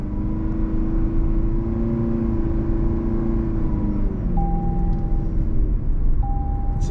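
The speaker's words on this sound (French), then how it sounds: "le moteur fait un petit peu de bruit, mais regardez, par exemple j'accélère un peu, je relâche un poil" A car engine hums steadily with a continuous variator-style drone, rising slightly as it accelerates and then easing back, moderately loud and close with no talking over it.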